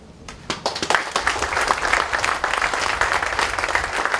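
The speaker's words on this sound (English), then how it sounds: "Ladies and gentlemen, a tremendous round of applause, please" An audience bursts into sustained applause at a grand opening in Belize, with dense clapping that rises quickly and holds steady at close range.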